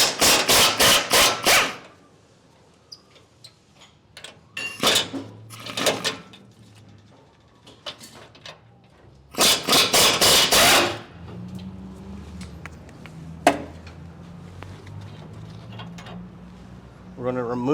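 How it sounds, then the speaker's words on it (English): Factory bumper bolts being removed from a Ford F250/F350 pickup: loud, clattering bursts from a power tool or impact wrench, separated by pauses with some metallic clinks and someone talking nearby. "We're going to start by removing the two factory bolts that hold the bumper on."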